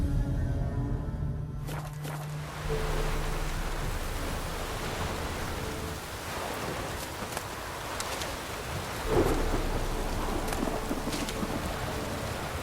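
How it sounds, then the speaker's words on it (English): A thunderstorm with rain in The Witcher 3, heard as a constant wash of rainfall with occasional soft footsteps and a louder swell near the end, with no one talking. "Looks like a thunderstorm's rolling in."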